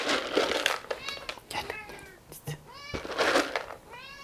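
Several cats meow repeatedly at feeding time, rising and falling calls close to the microphone, with someone talking quietly in between and light rustling.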